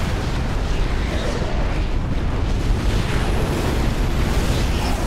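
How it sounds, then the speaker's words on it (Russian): A heavy shot fires at the Colossus in the strategy game Supreme Commander 2, a loud dense roar of battle explosions and artillery filling the whole stretch without pause. "Выстрел по колоссу."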